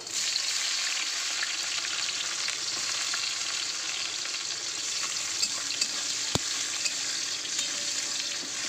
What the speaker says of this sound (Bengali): তো চলো পাঁচফোড়ন দিয়ে দেবো তেলে, আর দিয়ে দেবো একটু কুচানো পেঁয়াজ